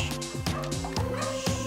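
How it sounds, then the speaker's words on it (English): A puppy barks repeatedly in quick yappy bursts, loud and close in a home as a visitor arrives, the high pitched yips coming in a steady rapid string with slight whimpering tone. "She will bark and bark."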